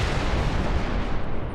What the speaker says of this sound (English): The room shook with an unearthly explosion.